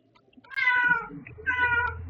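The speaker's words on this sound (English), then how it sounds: "That's my cat." A cat meows twice, close by, each call a drawn-out nasal cry with a short pause between them, over faint low background rumble.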